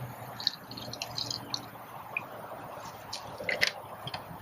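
Water dripping and trickling through a Berkey Travel gravity filtration unit, faint irregular drips and small splashes over a quiet background, close by and without speech.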